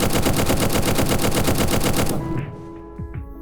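Full-auto rifle fired from the hip in the shooter game Zero Hour: Operation Black Dawn, a loud unbroken rapid burst of evenly spaced shots lasting about two seconds, then echoing tails and faint clatter.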